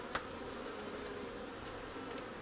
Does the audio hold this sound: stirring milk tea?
no